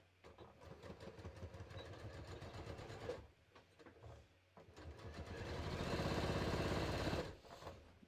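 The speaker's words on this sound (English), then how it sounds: "So I'm just going to sew these shoulder seams" A sewing machine stitches knit shoulder seams in two runs, a rapid mechanical chatter that pauses briefly before a longer, louder burst, close by.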